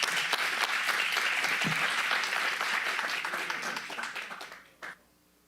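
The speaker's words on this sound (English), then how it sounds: "Let's give her a round of applause" An audience at a Sutter County supervisors' board meeting claps steadily, the dense applause gradually thinning and fading out, with a final few scattered claps near the end.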